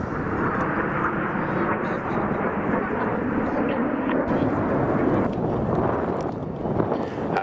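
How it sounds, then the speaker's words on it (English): RAF Red Arrows jets in an aerobatic display at RAF Cosford airshow, a steady loud roar of jet engines with wind buffeting, continuous and heavy, dropping slightly in tone toward the end. "As they cross, the coloured smoke will come on, the aircraft pulling 6G, the pilots fighting hard against the G-forces"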